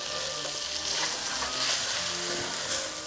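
Fish fillets frying in a pan on low to medium heat, a steady close sizzle and crackle with no talking.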